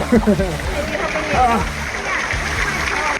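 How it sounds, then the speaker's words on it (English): Water splashes and gurgles steadily over rocks close by, a small cascade burbling halfway up a waterfall in Litchfield National Park, with voices talking over it. "Little waterfall in a waterfall."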